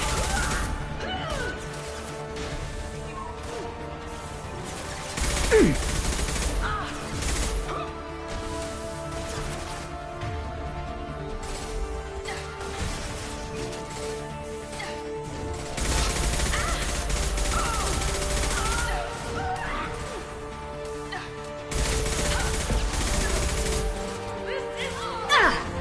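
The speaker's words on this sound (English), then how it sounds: "Nice shooting!" Gunfire in Mass Effect 2 during a combat encounter, repeated loud bursts in several waves lasting a few seconds each, over background music, effects and occasional voices.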